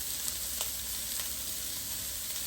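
Chicken browning in a hot pan, a steady sizzle and frying hiss that runs evenly throughout with no talking, close and moderately quiet.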